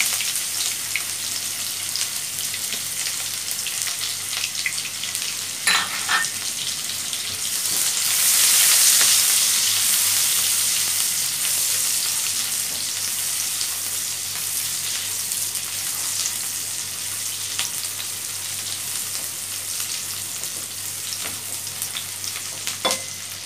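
Chopped onion and whole cumin seeds fry in hot oil for an okra and onion curry, giving a steady, close sizzle that holds throughout with faint stirring and a brief swell in the middle.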